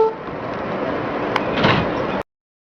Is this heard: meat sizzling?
no